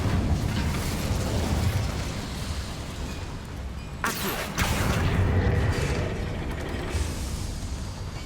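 Incendio fire spell cast in Hogwarts Legacy inside a small mine: a sharp whooshing burst of flame about midway that breaks through a steady dense rumble of game ambience, with no talk.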